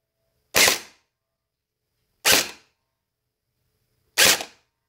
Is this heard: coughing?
no